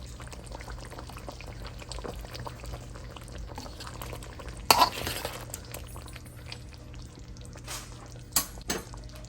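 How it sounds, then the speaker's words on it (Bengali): Ghee and garam masala are stirred into a simmering potato curry in a pot, with soft wet bubbling and sloshing throughout, a sharper clatter of the spoon midway and a couple more near the end. "ঘি আর গরম মশলাটা ভালো করে মিশিয়ে দেব"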